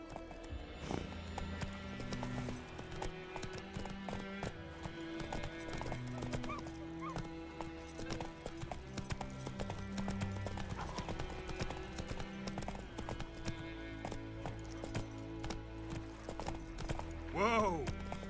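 A horse's hooves clip-clop at a steady walking rhythm in The Witcher 3, with a neigh near the end, all set beneath background music.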